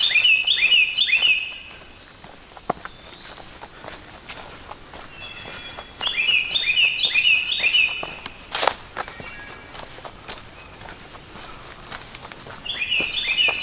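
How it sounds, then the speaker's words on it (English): Fluting wood thrush song phrases recur three times, clear and moderately near, separated by gaps filled with crunching footsteps on a trail and faint background chirps. "I hear a wood thrush out there too."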